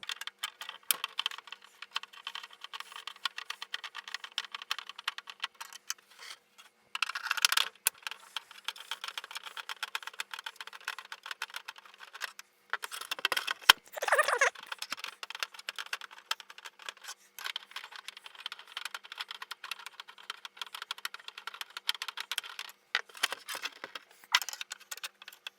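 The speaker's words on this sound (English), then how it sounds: "Once we hear them click, we know that they are actually unscrewed." Screws being unscrewed from a Vectrex console case give off repeated small clicks and light rattles, quiet and close, scattered in bursts with short pauses.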